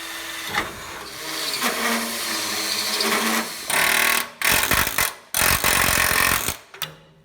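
A power drill whines loudly in several close bursts, grinding through metal to drill out spot welds on a car tail panel, with short pauses between runs.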